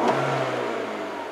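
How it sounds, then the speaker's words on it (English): A 2011 Mini Cooper S R56 engine with a random misfire snaps sharply up in revs, then slowly winds back down over about a second, heard close and loud with no talking. "I did a snap throttle."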